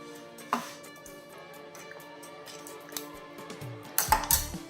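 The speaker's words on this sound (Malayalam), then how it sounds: "മല്ലിയിലയും കൂടെ ഇട്ടിട്ട് നമുക്കൊന്ന് മിക്സ് ചെയ്യാം" Chicken curry being mixed with fresh coriander leaves in a bowl: a few clinks and scrapes of a spoon against the dish, with a louder cluster of knocks near the end, close and fairly quiet.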